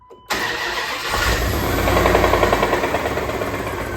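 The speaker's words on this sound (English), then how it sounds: "Now I'm gonna get closer to the engine." A Dodge Dakota pickup's engine starting and running, recorded up close: a sudden catch, then a loud steady rough idle with a faint rhythmic pulsing, no voices.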